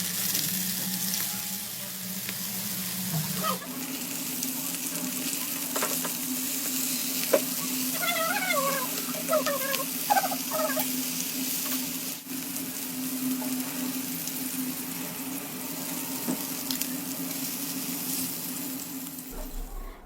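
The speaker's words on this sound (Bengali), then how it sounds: "তারপর একটি প্যানে সামান্য সরিষার তেল দিয়ে মাছগুলোকে হালকা করে ভেজে নিব।" Hilsa fish frying lightly in mustard oil in a pan, a continuous close sizzle with soft crackles and occasional stirring clinks, with no talking.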